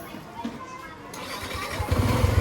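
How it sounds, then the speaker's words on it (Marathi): A motorcycle on a Mumbai street cranks and starts, a low engine rumble building toward the end of the short burst, with someone talking over it. "गाडी चालू, नशीब."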